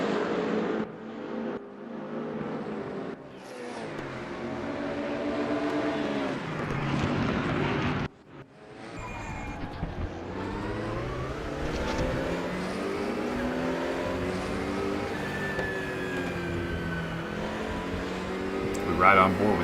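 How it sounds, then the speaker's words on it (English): Race cars circle Laguna Seca in a racing video game, engines droning and shifting pitch as they rev and downshift, nearly continuous throughout, while a commentator talks over the racing. "Stokes looking to the inside of Reimers, and it looks like he's got the position for fourth as they head to the corkscrew"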